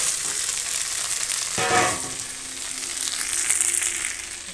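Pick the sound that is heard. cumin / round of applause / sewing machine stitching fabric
cumin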